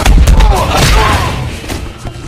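An explosion in an action film lands as a heavy, booming blast with thudding low rumble and debris, loud and close, while a narrator's voice runs over it.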